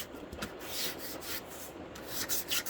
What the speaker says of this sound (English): take a piece of sandpaper, like a 220 grit sandpaper, and just lightly go over the surface